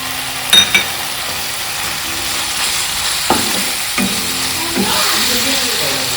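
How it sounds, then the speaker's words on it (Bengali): Small pieces of boneless chicken fry in a pan with Schezwan sauce and tomato ketchup, giving a loud, steady sizzle with a few scraping stirs, close and without talk. "একটু ফ্রাই করলে এটা হয়ে যাবে"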